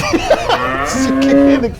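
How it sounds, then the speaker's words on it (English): A cow moos loudly and close by in a long, drawn-out call that rises and holds, with brief bits of background noise before it and no clear speech. "You can hear the cow dying."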